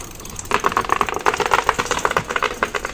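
An electric bicycle's motor pulls up a slope on throttle, with a rapid, rattling mechanical chatter that pulses unevenly. It is close and fairly loud, and the wheel seems to slip.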